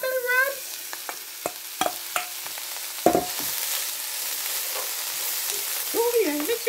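Broccoli rabe frying in oil, with steady close sizzling and sharp spatula scrapes against the pan, a brief voice at the start and end.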